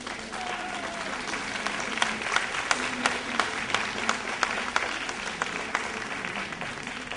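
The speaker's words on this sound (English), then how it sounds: "I'd like you to clap your hands" An audience at a church conference claps together for the archbishop of Rimouski, a steady, dense wash of hand claps across the room with a few sharper near claps standing out, holding at an even level throughout.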